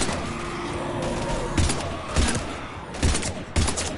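Several loud bursts of gunfire ring out in a Mass Effect combat scene, sharp reports at irregular intervals over a constant battle din, with no speech in between.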